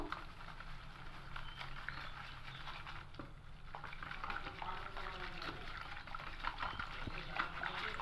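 Atta and maida flour batter stirred in a bowl, mixed little by little: a steady soft wet patter and sloshing that runs throughout at moderate level.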